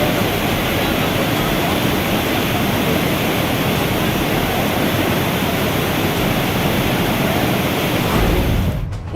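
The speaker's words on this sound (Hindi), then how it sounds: "दक्षिण में पानी का प्रचंड बहाव" Torrential floodwater surging in a dense, loud, unbroken roar that fills the whole stretch, steady with no letup until it cuts off abruptly at the very end.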